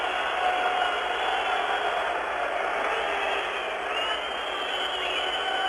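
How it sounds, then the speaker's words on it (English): Ice hockey arena crowd at a USSR versus Canada match, a steady dense roar with whistling mixed in, continuous and loud throughout. "it's awfully hard to hear it with the crowd noise as well as the whistling"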